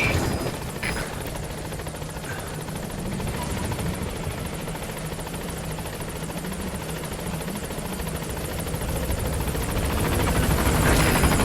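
A helicopter arrives at a landing zone in the Metal Gear Solid V: The Phantom Pain video game, its rotor drone steady and fairly loud throughout, swelling slightly near the end.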